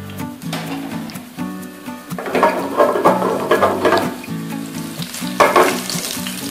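Curry leaves and cumin seeds hit hot oil for kadhi pakora and crackle sharply. The sizzling swells in two loud bursts and is layered over steady background music.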